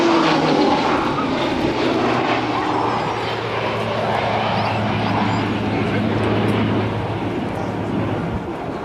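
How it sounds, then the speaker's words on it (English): At a naval air station airshow, an E-2C Hawkeye propeller aircraft passes by at low altitude, its engines droning loudly and steadily with a low propeller hum, while a commentator talks over it on the public address. "Lieutenant Swanson will maneuver the E-2C for the next pass at 250 knots and 400 feet"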